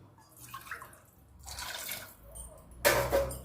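Water splashes into a cooking pot of thick, chilli-spiced gravy with brinjal, in two short close bursts separated by quiet moments.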